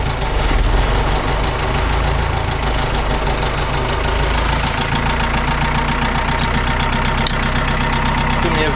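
A Mercedes 508d diesel van engine idling, a loud continuous close rumble with a fairly even knocking clatter that rises slightly partway through, as if revved a little.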